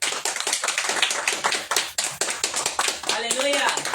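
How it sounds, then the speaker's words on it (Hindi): A church congregation claps their hands in a Hindi-language worship service, with sharp rhythmic claps under loud speech and a little singing toward the end. "और जोरदार ताली बजा दीजिए"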